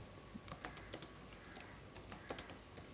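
Quiet, uneven clicks of typing on a computer keyboard, in short bursts of keystrokes with brief pauses, close by and faint, with no talking.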